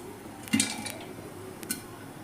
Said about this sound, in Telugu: అవుతున్నాయి, స్టార్ట్ అయినాయి పాప్కార్న్లు